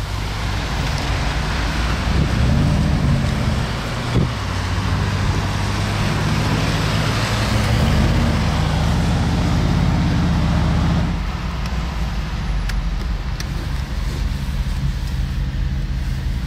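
A McLaren Speedtail idles at a red light in Paris traffic, a low engine drone with rising and falling revs under wind and road noise, then settling to a quieter rumble near the end.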